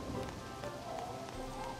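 Steady rain from the Harvest Moon: Animal Parade video game, a continuous soft patter and hiss of drops on surfaces, even in level throughout with no talking.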